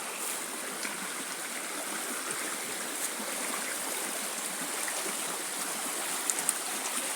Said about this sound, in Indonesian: Bisingnya bukan dengan kendaraan tapi dengan air.